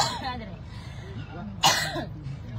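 A single sharp cough bursts out in the middle of ongoing talk, loud and close, then speech resumes.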